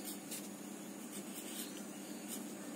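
A teacher writes a word by hand during a Hindi class, producing a soft, continuous scratching of pen or chalk, close and faint, with no voices.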